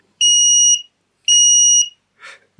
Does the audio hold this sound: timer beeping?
yes